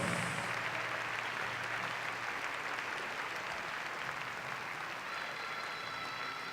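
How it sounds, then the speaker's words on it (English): An audience at a professional ballroom dance championship final applauds after a Viennese Waltz, with dense, steady clapping that fills the whole stretch and tapers only slightly toward the end. "Lots of applause, ladies and gentlemen."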